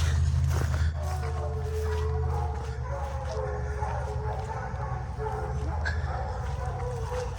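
Several dogs bark and yip at a distance, irregular and overlapping, over a low rumbling background, heard from a trail campsite beside a powerline.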